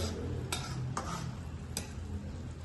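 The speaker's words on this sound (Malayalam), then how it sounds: "നമ്മളിതിലേക്ക് റവ ആഡ് ചെയ്ത് കൊടുക്കുകയാണ്" Semolina goes into boiling water and is stirred, giving a continuous bubbling hiss with three sharp scraping clicks from the spoon against the pot, close and without speech.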